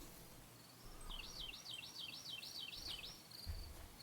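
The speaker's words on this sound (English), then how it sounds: "This is the only night sounds I have." Night ambience of crickets: a faint, steady, wavering high trill that rises and falls for a couple of seconds over a low background hiss.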